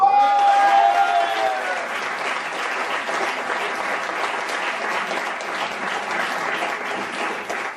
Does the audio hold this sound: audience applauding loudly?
yes